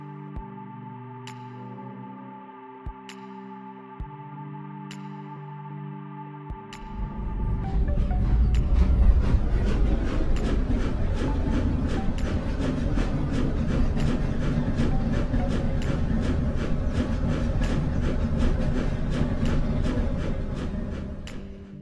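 Trains running in a Unity Train Controller demo: a few isolated tonal clicks give way to a loud, continuous rolling rumble of wheels with evenly spaced clickety-clack beats over the rails.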